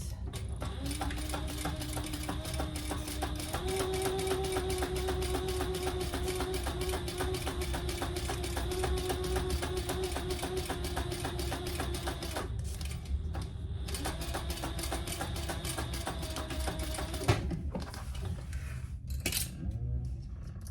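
A sewing machine stitches a wax canvas sling in a steady fast whir, running continuously at close range with a few pitch shifts, then stopping briefly near the end before short restarts.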